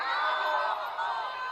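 A dense crowd of supporters along a presidential motorcade shouts Prabowo's name, a steady roar of overlapping voices heard up close.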